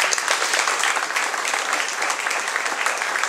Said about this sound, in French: Sous applaudissements.